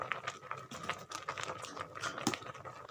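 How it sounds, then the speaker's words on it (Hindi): A spoon stirring and pressing spinach and potatoes in a pot for aloo palak, giving quick, irregular scraping and clacking taps close up, with no talk. "अब इसमें हम चम्मच हिलाएंगे, इसको ऊपर नीचे करेंगे"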